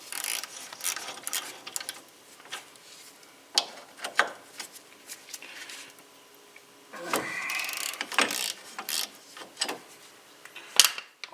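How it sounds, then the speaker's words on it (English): A ratchet wrench loosens strut bolts on a 2007 Chevrolet Cobalt, giving bursts of close mechanical clicking separated by pauses, with no speech. "And ratchet away."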